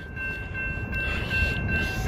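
A Union Pacific intermodal freight train rolls through a road crossing in Marana, Arizona, a steady, loud rumble of wheels and cars with sustained high tones riding over it and no talking.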